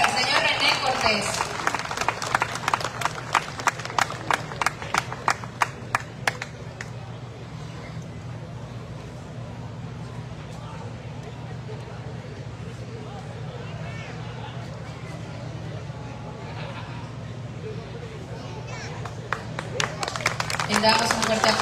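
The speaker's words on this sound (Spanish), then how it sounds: "Vamos a brindarle un fuerte aplauso" An audience claps at a recognition ceremony honoring fifty years of a group, with a burst of fairly faint, scattered handclaps early on that fades into a quieter murmur, then some renewed clapping at the end.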